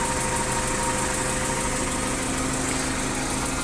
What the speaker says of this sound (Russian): Двигатель, я думаю, слышно, работает отлично